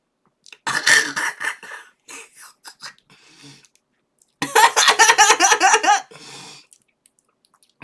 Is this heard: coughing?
yes